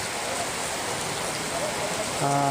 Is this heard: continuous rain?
yes